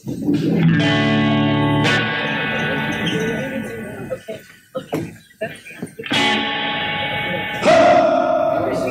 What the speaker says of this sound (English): Can I get plate reverb and a lot of it?